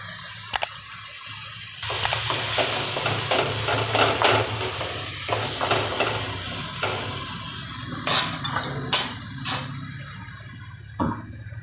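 Masala with tomato and sev cooking in a pan for Gujarati gogdi tameta nu shaak, a steady close sizzle and bubbling with scattered spoon scrapes and clinks throughout.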